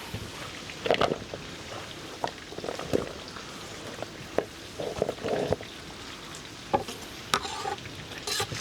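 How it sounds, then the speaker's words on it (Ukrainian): Chopped onions frying and being stirred in a large cauldron over an open fire for plov, a soft sizzle broken by repeated scraping and clanking strokes of a utensil against the metal. "Вкидаємо цибульку і тепер мішаємо, щоб наша цибулька трошки піджарилася"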